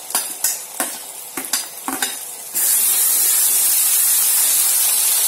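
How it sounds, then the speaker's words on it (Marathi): Onion paste hits hot masala in a pan for spicy chicken curry: a few sharp spatula clanks, then a sudden loud, steady hiss of sizzling that carries close and unbroken to the end. "आता इथे कांद्याची पेस्ट जी आपण करून घेतली ती टाकून घेऊया।"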